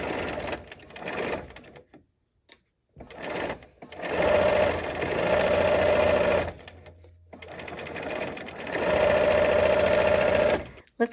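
A sewing machine stitches rows of a quilted star-within-a-star block, running in several sustained bursts with short pauses and near-silent gaps between, its steady mechanical whir close and clear.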